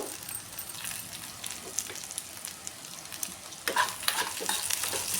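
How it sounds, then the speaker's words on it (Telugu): Frying in a pan with cumin and curry leaves for a bitter gourd dish, a soft steady sizzle with intermittent spatula scrapes and stirring clicks, fairly quiet. "గోల్డెన్ బ్రౌన్ కలర్ వచ్చే వరకు వీటిని ఫ్రై చేసుకుందాం."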